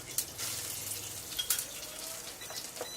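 Garlic and fresh rosemary sizzle in a smoking-hot pan before pork chops go in, a steady crackling fry with scattered sharp pops and light clinks, close and without talk.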